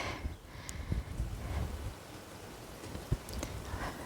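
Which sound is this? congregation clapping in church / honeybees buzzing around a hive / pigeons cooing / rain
rain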